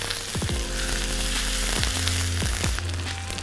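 Ginger and green chili fry in a pan alongside cumin, giving a close, crackling sizzle with a few sharp pops and stirring scrapes, no talk.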